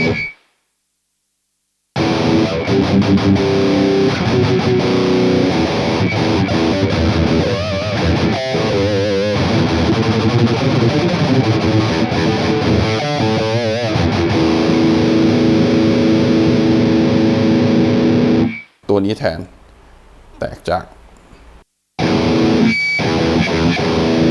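Heavily distorted electric guitar through the TH-U Overloud amp simulator on a mobile phone drones in thick, buzzing sustained tones, with a few short silent breaks near the end.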